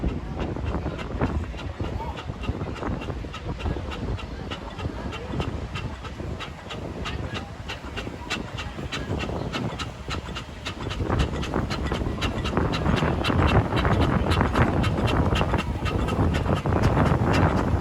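Steam traction engines parade at the Hellingly Festival of Transport, a loud, continuous rumble with rapid rhythmic chuffing and mechanical clatter close by, roughened by wind buffeting the microphone.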